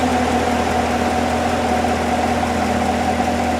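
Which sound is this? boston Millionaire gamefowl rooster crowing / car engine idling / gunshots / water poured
car engine idling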